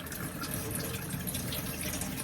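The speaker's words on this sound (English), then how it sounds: "You're going to want to start by using some running water and just kind of removing any of the visible debris on the implement." Tap water runs steadily into a sink while an implement is rinsed of visible debris, a soft continuous hiss and splash at low level with no talk.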